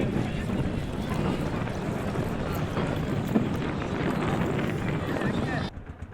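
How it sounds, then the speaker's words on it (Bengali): A boat moves across open water on a trip through the Jaflong area of Sylhet, giving a steady rushing wash of water and wind noise that holds evenly for most of the stretch before dropping off near the end. "আলহামদুলিল্লাহ আমরা নৌকা চেপে বসেছি"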